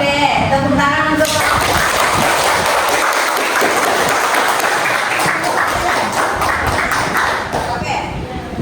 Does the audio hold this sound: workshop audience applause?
yes